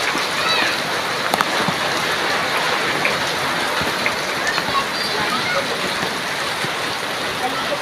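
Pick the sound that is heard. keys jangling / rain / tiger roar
rain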